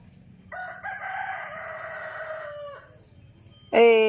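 A rooster crows loudly and close by with a long, drawn-out call, then a second sharp crow starts at the end, over a background of softer chicken clucking.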